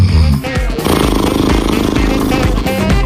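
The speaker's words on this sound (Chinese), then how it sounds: "电钻式和正唇式打呼噜" A loud, rasping snore with a buzzing, drill-like drone that grinds on steadily for about three seconds with only brief dips.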